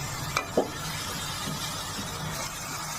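Turmeric powder being stirred into oil-released fried spice paste for a Bengali fish curry with potatoes and pointed gourd, a steady low sizzle with soft scraping stirs and two brief clinks near the start.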